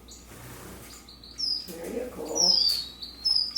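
Small aviary birds give sharp, high chirps in short bursts over soft rustling and handling noise. A person speaks briefly.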